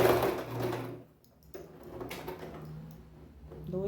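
A domestic sewing machine stitches fabric in short runs, each starting and stopping abruptly between quiet gaps, close and clear with no talking.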